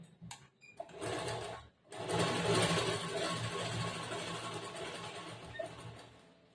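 A sewing machine stitches along the folded neck piece of a blouse, a short start-stop burst followed by a steady, close mechanical whirr of rapid needle strokes for several seconds.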